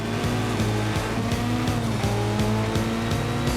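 Animated race car on a track, engine roaring with repeated rising gear changes and tire squeal, loud and continuous.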